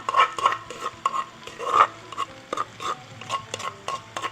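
Pounded curry paste with fish stir-fried in a pan for nam ya khanom jeen, a Thai curry sauce, with steady scraping strokes of a utensil and bright metallic clinks against the pan over a soft sizzle, close and alone.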